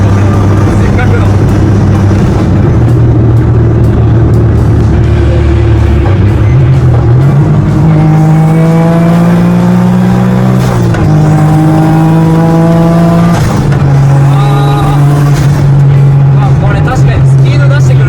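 A turbocharged 220-horsepower Honda S660 (JW5) with a GCG turbine and dog-engagement gearbox pulls hard, its loud, close engine drone rising in pitch through the gears, with voices talking over it.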